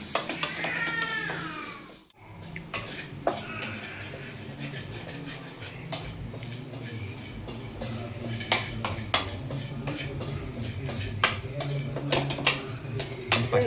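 Kerala fish curry with crushed green chillies is stirred in a pot, with metal spoon scrapes and clinks against the pan in irregular bursts, while a cat meows loudly early on and now and then after.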